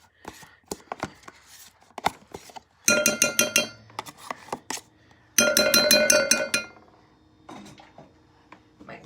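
A spoon working chocolate cake batter in a bowl, with soft butter stirred through, comes as two bursts of quick rhythmic clinks and scrapes close by, separated by scattered lighter taps and pauses.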